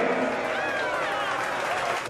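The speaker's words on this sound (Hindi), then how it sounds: "एक बार जोरदार तालियां हो जाए" An audience at a Nizamabad talent show applauds to welcome the judges, with dense, sustained clapping from a crowd and some voices mixed in.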